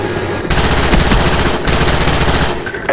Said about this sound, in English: A grenade and three or four people shooting at him?